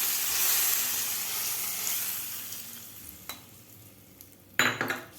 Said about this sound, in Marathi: आपल्याला यामध्ये तडका घालून घ्यायचा आहे